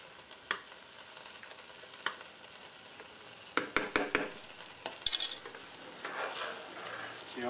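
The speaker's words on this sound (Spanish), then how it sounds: "Y vamos a mezclar bien, para que se mezclen los sabores" A spoon stirs guava mole in a pot, giving scraping knocks and clinks that grow busier toward the end over a soft, steady sizzle, fairly close, with no talking.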